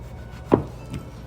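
A knife chops fresh Sant'Anna green beans into chunks on a board, with one sharp close thud followed by a softer second tap.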